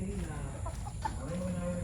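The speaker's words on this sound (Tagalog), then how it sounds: "Daming manok ni Tito Ben, no?" Soft clucking of chickens comes in short bursts over low background noise, with a faint voice murmuring nearby.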